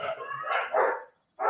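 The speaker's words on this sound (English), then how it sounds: "I know the dogs in Studio B are trying to record the answer tonight" Several dogs in a studio give close, loud yips and barks in quick bursts, broken by a brief silence.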